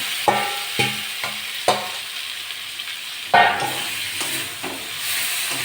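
Potatoes and pointed gourd stir-fried in oily spice paste for a Bengali tilapia and tiger prawn curry, sizzling steadily with repeated scraping stirs of a spoon against the pan, close and clear, no talking.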